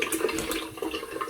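Hot water runs from a hotel bathroom tap for a quick rinse during a wet shave, a brief steady hiss and splash of flowing water heard close by.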